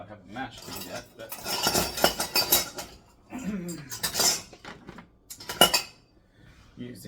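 Bananas mashed with a potato masher in a bowl for banana bread, giving repeated clinking and squelching strokes in uneven bursts, fairly close and moderately loud, with brief pauses between bursts.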